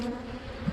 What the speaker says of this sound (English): One of the bees there bringing in some pollen.